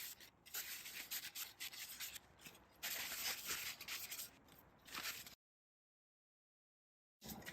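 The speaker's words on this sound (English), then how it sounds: "I'm going to give it a final wipe" A cloth gives the rear brake parts of an Audi TT MK3 a final wipe: quiet, close rubbing strokes in uneven bursts, then a long silence before one more brief rub.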